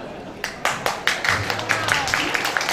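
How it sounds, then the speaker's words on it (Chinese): A small audience at a contemporary art exhibition opening claps in a sharp run of hand claps that grows quicker and fuller, with a voice talking over it. "给我们掌声，给我们掌声"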